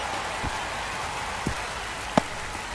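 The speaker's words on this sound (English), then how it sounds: "We're coming right up against it with the way this rain is coming down." Rain falling in an MLB baseball video game, a steady hiss of rainfall with a few scattered louder drops or taps heard alone.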